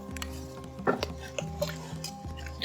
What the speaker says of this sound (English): I'm going to go ahead and incorporate the sauce into my pasta